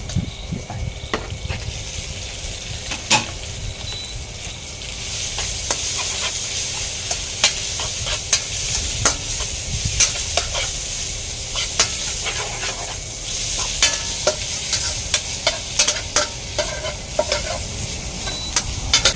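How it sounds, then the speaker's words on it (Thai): Pork and fragrant chilies are stir-fried in a pan, with loud continuous sizzling and rapid scraping and clattering of a spatula throughout. "พริกหอมนะครับก็เอาหมูลงไป"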